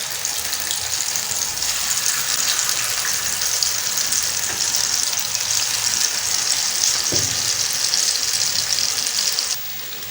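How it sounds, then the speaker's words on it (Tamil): Chicken 65 pieces deep-frying in hot oil make a loud, dense, continuous sizzle with a bubbling roar that holds steady for about nine seconds, then drops slightly near the end, with no talking. "இப்போ எண்ணெய் சூடாயிட்டு இதில் சிக்கன் தொட்டெல்லாம் போட்டுடலாம்"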